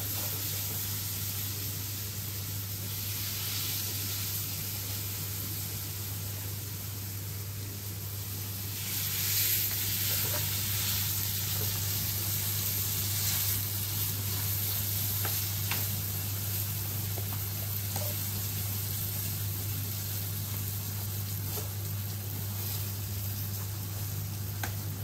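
Thati rotti paste sizzles loudly as it is spread over a hot pan greased with ghee, a continuous hissing fry with a steady low hum, swelling slightly midway and staying strong throughout.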